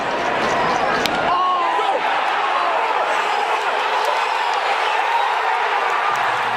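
A large, agitated crowd at Yankee Stadium during a World Series baseball game, a dense roar of voices holding steady throughout, close and loud.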